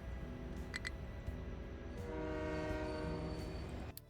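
A rail train in the industrial building game Captain of Industry rumbles steadily along, with short high horn blasts sounding early on over a continuous low mechanical drone.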